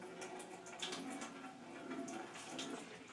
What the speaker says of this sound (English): is spray some hot water in the bottom.